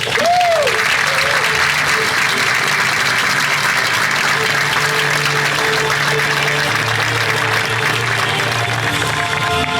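An audience at Chula Vista's State of the City 2024 gives a sustained round of applause, thick and even throughout, with a few voices and cheers rising from the crowd.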